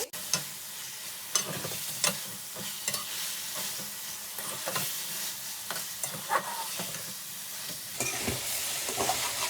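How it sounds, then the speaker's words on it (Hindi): Chicken being fried and stirred in masala in a karahi: a continuous close sizzle broken by repeated scraping stirs at an uneven rhythm, with no voices. "अब हमने जो चिकन फ्राई किया था वो डाल देंगे। चिकन डालने के बाद 2 से 3 मिनट हम अच्छे से भूनेंगे।"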